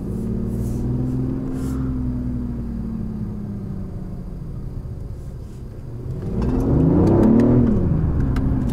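A 2019 BMW i8 plug-in hybrid with an 11.6 kWh battery, driving in electric-only mode. A smooth electric whine and road rumble hold steady from inside the car, then rise as it accelerates near the end, with no talking.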